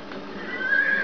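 A horse in the video game Gun gives a short, loud whinny that rises in pitch over about a second, heard close with no speech.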